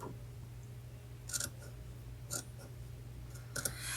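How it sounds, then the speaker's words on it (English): Scissors snip the fabric corners of a heart pillow in three short, crisp cuts spaced about a second apart, close and clear over a quiet hum. "I'm going to take my scissors, and I'm going to start snipping on some of these corners."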